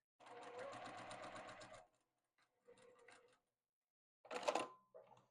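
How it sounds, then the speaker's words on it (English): A sewing machine stitches a quarter-inch seam through quilt fabric with back stitching, giving a fast steady mechanical whir for about two seconds, then shorter bursts, close and fairly quiet, with a voice briefly heard between runs. "we're just going to fold these right sides together and sew a 1/4 inch seam along here"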